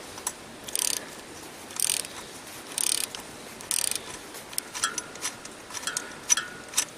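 A ratchet with a 9/16 socket works the idler pulley bolt on a 1999 Dodge Dakota 3.9L V-6 Magnum, giving bursts of close, quick clicking at a steady pace, with quieter pauses between them.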